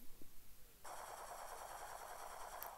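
Rifle fire in a first-person shooter video game, heard as a steady rapid burst of automatic shots after a brief quiet start, faint and continuous with no voices.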